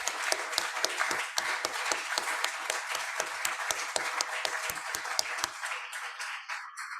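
A small audience applauds performers at a salon concert in Sydenham, with distinct individual claps forming a lively patter that thins out and fades away toward the end.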